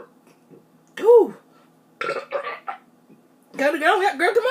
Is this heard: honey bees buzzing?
no